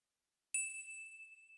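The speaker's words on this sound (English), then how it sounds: "the toy bells coming one last time for the last hits" A single bright toy-bell ding rings out from silence and then lingers, ringing softly, clear and alone as a final orchestral hit.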